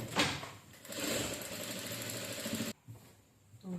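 A sewing machine stitches a saree blouse with a rapid, even mechanical rattle for about two seconds, stops abruptly, then gives a short restart near the end. It is close and moderately loud, with no talk.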